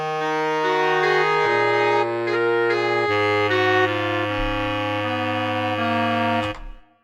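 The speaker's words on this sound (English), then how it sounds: "And lastly, for this category, the woodwind section." Woodwind section from a free software plugin playing sustained chords that step through several changes, reedy and bright, ending with a fade to silence; no talking.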